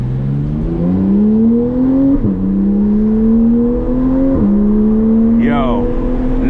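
Porsche 911 GT3 flat-six engine revving hard through only a muffler, not a full exhaust, heard from inside the car: a loud, rising wail climbing through gears in three pulls with brief drops at each shift.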